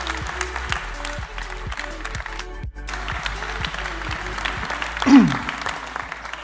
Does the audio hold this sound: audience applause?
yes